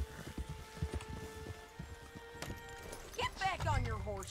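Horse hooves clip-clop at a steady walking rhythm in the Red Dead Redemption 2 video game, with in-game character dialogue over the steps and a horse whinny near the end.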